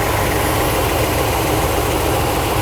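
A Mercedes W126 560SEC V8 idles steadily after repair, giving a loud, even, continuous rumble with no stumbling or surges.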